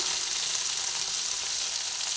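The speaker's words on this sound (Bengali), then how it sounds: "ভেজে নিচ্ছি ঢেঁড়সগুলোকে কিছুটা ভাজা হয়ে গেছে" Okra sizzling steadily in hot oil in a pan, a close, even hiss throughout with no voices.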